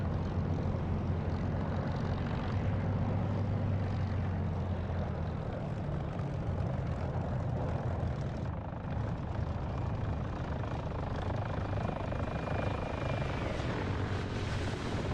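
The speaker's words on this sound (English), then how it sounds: "Nice little flyover there, that was nice to see." A low, steady engine drone rumbles without a break in the DCS flight simulator, an aircraft passing overhead at moderate loudness with a broad whooshing wash, dipping briefly and then carrying on unchanged.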